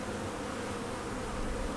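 Honey bees humming at a hive on a honey farm, a dense steady buzz of many insects filling the air without a break.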